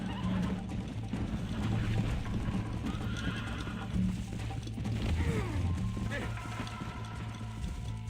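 Horse in the Red Dead Redemption video game whinnying and neighing with steady clip-clop of hooves throughout a race, layered over continuous game ambience while people talk.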